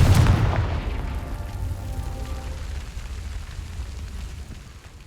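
Confringo fire spell exploding in the Hogwarts Legacy video game: one loud booming blast at the start that rumbles and decays over several seconds into a lingering crackle.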